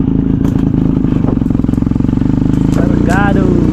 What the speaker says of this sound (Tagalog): Yun, kargado yung motor natin.